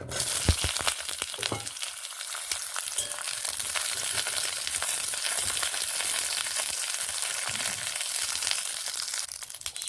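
Cut eggplant pieces sizzle and crackle steadily in hot oil in a wok, a dense, continuous frying hiss with occasional sharper pops near the start, close and fairly loud throughout.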